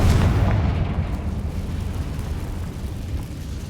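A Confringo fire spell explodes in the Hogwarts Legacy video game, a loud booming blast at the start that fades into a rumbling low tail, with no talk over it.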